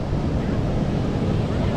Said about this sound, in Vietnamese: tại bãi biển Hoa Dung.